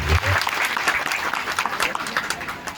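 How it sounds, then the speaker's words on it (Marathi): An audience at a musical Bhagavat Katha religious gathering claps loudly and steadily, a dense wash of applause that lasts throughout with slight swells. "हरिभक्त प्राय शोभाताई रानडे यांच्यासाठी पण जोरदार तुम्ही टाळ्या वाजत"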